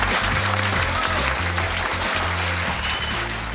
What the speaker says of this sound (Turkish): Aa, alkış!